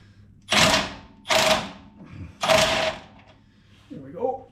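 A ratchet socket wrench works 9/16 stove bolts loose on a 1965 Beaumont (Chevelle) drag link, giving three distinct mechanical bursts, each about half a second long, followed by faint handling noise.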